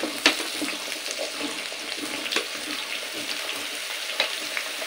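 Raw mango pieces for a jaggery mango pickle go into a kadai one after another, each landing with a soft thud over a quiet, continuous frying hiss, heard close and without speech.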